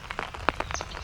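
Rain falls on a small umbrella outdoors during a turkey hunt in Pennsylvania, giving close, irregular pattering taps in a short burst.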